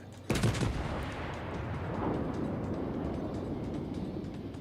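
HMS Dreadnought's battleship guns fire in World of Warships: a single sharp, loud salvo with a deep booming blast, then a long rumbling roar that lingers and slowly fades, with no talking.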